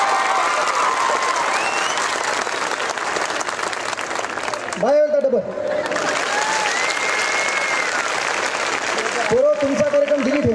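A crowd claps loudly for Babasaheb Ambedkar, sustained dense applause that runs throughout while a voice shouts over it a couple of times.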